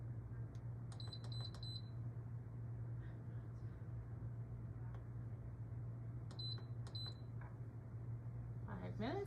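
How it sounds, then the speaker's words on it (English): An Instant Pot pressure cooker that has finished cooking sounds a series of short, high electronic beeps in two clusters, first near the start and then again after a pause, over a steady kitchen hum, with someone speaking at the end. "our Instant Pot has went off after the 5 minutes"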